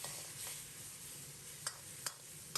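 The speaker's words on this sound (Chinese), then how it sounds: "青椒、木耳，开大火快速翻炒" Braised tofu skin stir-fried over high heat with green pepper and wood ear fungus, a soft steady sizzle with a few quick scraping clicks of the spatula, faint and close.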